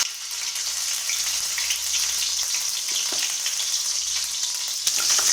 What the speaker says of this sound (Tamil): பேனில் ஆயில் ஊற்றிக்கலாம். கொஞ்சமாக இஞ்சி பூண்டு பேஸ்ட் போட்டுக்கலாம்.